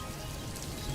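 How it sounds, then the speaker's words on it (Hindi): Rain falls on a farm field in a steady, soft, even patter, faint and continuous with no voices. "राघु बारिश में भीगते हुए अपने खेत में बारिश के पानी के बहाव के लिए रास्ता बनाता है।"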